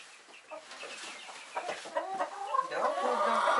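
Chickens cluck in a coop at feeding time, a busy overlapping chorus that builds from a few scattered calls to a dense, steady clucking close by.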